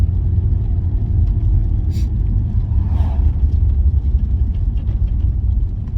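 Turbocharged VW VR6 fitted with a GT35 billet-clone turbo, a steady loud low engine rumble at idle or low speed, close up, with a brief hiss or pop around the middle and no talk.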